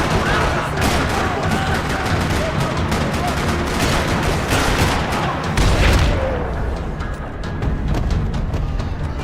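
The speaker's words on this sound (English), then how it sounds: "Another parking lot rattling with gunfire." Dense, rattling gunfire echoes through a parking lot, a loud, sustained barrage of overlapping shots that swells briefly near the middle and keeps crackling to the end.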